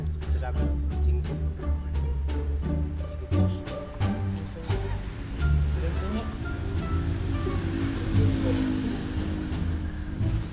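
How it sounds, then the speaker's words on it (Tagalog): Sea waves wash against the shore somewhere below a seaside spot, a steady broad surge that never fully clears and runs beneath constant talking. "Nandun lang po yung dagat sa baba"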